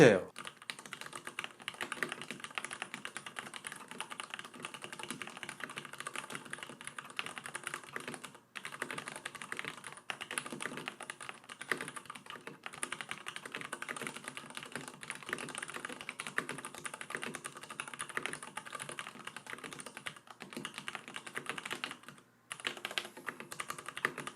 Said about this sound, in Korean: 키캡이 바닥과 닿는 부분에서 나는 이 도각도각 소리 이 소리가 굉장히 매력이 있는 스위치예요